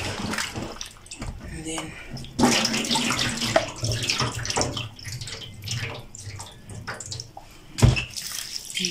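Arrowroot slices being washed by hand in a basin of water, with steady splashing and sloshing throughout and a louder splash near the end, while a voice speaks briefly over it.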